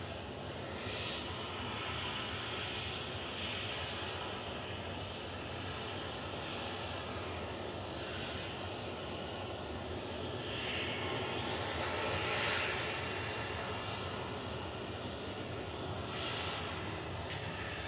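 A Kuwait airliner on approach to Manchester Airport produces a steady, moderately distant engine drone that swells a little near the end, with scattered faint ticks and no speech.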